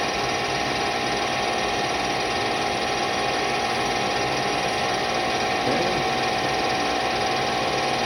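A metal lathe runs continuously, turning a ring while cutting 30 thousandths off the outside diameter. It gives a loud, steady machine drone with a grinding cutting texture, alone and with no talking.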